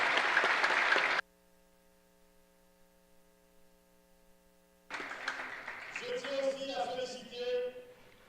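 Applause from the audience at a diplomatic panel session, CUMIPAZ 2018: a short burst that cuts to near silence with a low hum, then returns with voices over it.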